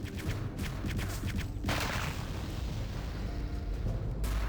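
Grenades or dynamite go off in Return to Castle Wolfenstein, producing a deep, rumbling explosive roar with a couple of heavier bursts that settle into a lingering low boom.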